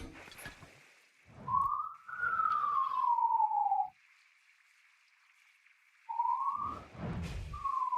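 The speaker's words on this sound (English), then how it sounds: "There's an ambulance going down the street." An ambulance siren passes down a street, its wailing tone sweeping up and down in loud bursts that drop away into a quieter gap before returning, with low traffic rumble underneath.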